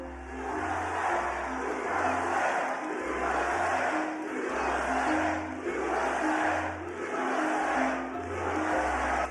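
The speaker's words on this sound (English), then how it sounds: "Trump played a video of prisoners getting their heads shaved at a prison in El Salvador while the crowd cheered" A large crowd at a Trump rally in Michigan cheers and chants in rhythmic bursts over a pulsing music beat, a loud, steady roar with repeated waves.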